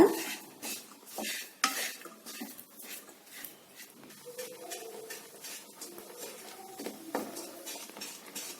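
Jaggery melting in a pan for sesame balls, stirred continuously, giving soft repeated scrapes and clinks of a spoon against the pan with faint bubbling, quiet and close, no speech.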